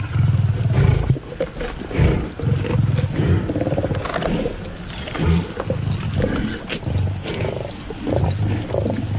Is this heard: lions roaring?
yes